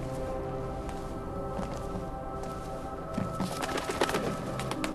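A bird coos in the stealth video game Thief, soft low calls over a steady ambient game drone, with sharp clicks and footstep-like taps growing busier toward the end.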